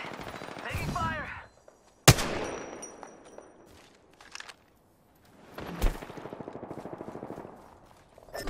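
Video game gunfire crackles in a few sharp shots and short rapid bursts, loud and close, separated by quieter gaps, with game voices heard briefly.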